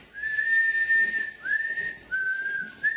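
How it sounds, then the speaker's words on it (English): A person whistles a few sustained tones with pitch slides, clear and close, in several phrases separated by short pauses with no talking. "Can you whistle?"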